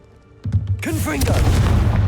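A Confringo blast spell goes off in Hogwarts Legacy, a sharp booming explosion that swells into a loud, sustained fiery rumble with crackling debris over a low roar.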